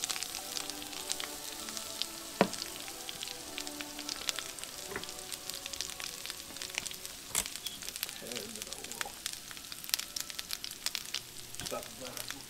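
Butter with garlic and herbs sizzles steadily in a pan, a continuous crackling fry dotted with sharp pops, close and fairly loud, with faint background voice at times.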